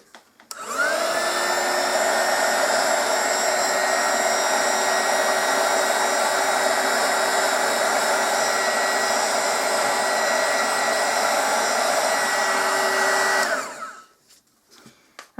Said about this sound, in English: I'm going to try the blower again.